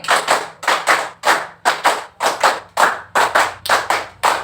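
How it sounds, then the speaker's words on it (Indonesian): Classroom rhythmic clapping in a counted pattern, a group of students striking loud, close, sharp claps in evenly spaced doubles and short bursts with brief pauses between. "Tepuk 1, tepuk 2, tepuk 3, tepuk 4, tepuk 5 3 kali."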